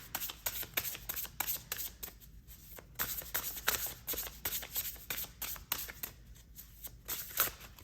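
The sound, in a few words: shuffling tarot cards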